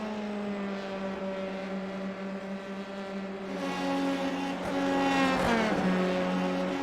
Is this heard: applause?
no